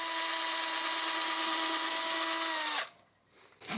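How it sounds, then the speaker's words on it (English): Power drill boring holes into the body of a Harmony H1213 archtop guitar, a steady loud whine held for nearly three seconds before stopping abruptly, followed by quiet. "it might be a good idea if we go ahead and drill those out now"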